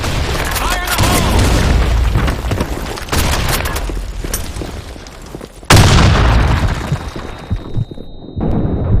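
Grenade explosions go off in a combat video game as loud, booming blasts with crackling bursts, one heavy detonation after another, the biggest hitting about midway before the noise briefly cuts out.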